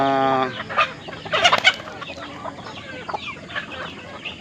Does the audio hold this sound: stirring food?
no